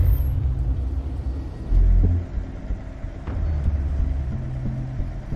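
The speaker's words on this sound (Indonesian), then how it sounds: "Eva pun langsung tancap gas dan berniat untuk menabrak Arthur" A car engine in a film revs and rumbles as the driver floors the accelerator, a steady low drone with a heavier surge partway through, loud and close with no talk over it.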